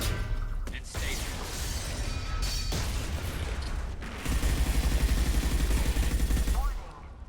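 Heavy weapons fire in Mass Effect pounds amid a loud battle mix, with sustained rattling bursts, sharp impacts and crashing debris that grow denser partway through, and voices speaking over the combat.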